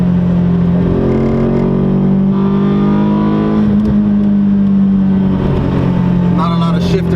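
An Infiniti G20 fitted with an SR20VE engine drives along, its steady loud engine drone rising and falling in pitch as it revs and shifts, with a voice speaking over it.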